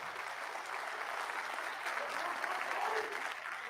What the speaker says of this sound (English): please give our panelists the alpha round of applause